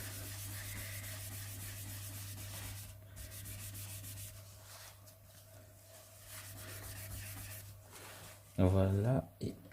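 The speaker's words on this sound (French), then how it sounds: "du papier. On va estomper ça." Paper rubs across a pencil drawing of a tiger to blend the graphite, a soft, close, continuous scuffing with uneven strokes, followed near the end by a short burst of speech.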